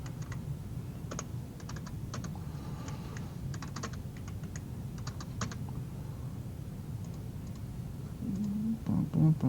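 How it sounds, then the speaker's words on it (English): Manual keystrokes on a computer keyboard during a class session, irregular bursts of clicks over a steady low room hum, with a faint voice starting near the end. "I'm actually manually typing it in."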